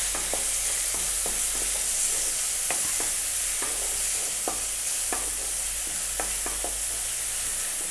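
Onions fry in a pan after garlic paste for a prawn dish, giving a constant loud sizzle close by, broken by sharp regular scrapes and taps of a spatula as they are stirred.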